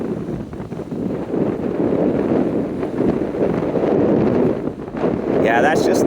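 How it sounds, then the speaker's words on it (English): Steady wind gusting close to a beach during a sailing lesson, a continuous broadband roar of buffeting against the microphone that swells and dips without pause across the whole stretch, with no clear speech over it. "that's just the wind gusting close to the beach there"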